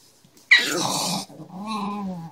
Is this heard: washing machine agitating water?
no